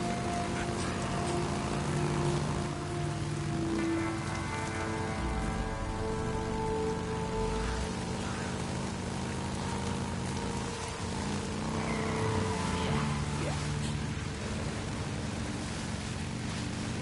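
Steady rain pattering on surfaces fills the whole stretch, with low engine-like hum and tonal music underneath; no talking. From the video game Days Gone.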